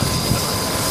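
Locomotive 3265 Hunter departing near Maitland Station, a loud continuous rumbling roar of the engine that holds steady and close through the brief moment.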